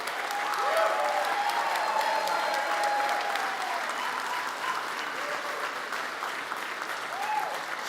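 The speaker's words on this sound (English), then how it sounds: "Hear this applause and know that we see you, we appreciate you." An audience applauds at the Finnish Game Awards, a sustained, even wash of many hands clapping heard somewhat at a distance, with faint voices mixed in.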